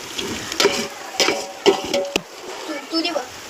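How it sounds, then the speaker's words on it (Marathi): A ladle stirs and scrapes through jackfruit curry with onion, chilli, curry leaves and mustard seeds in a pan over a wood-fired stove, making several sharp clanks and a soft sizzle, while a voice talks. "आता बरी मिक्स करून घेऊया."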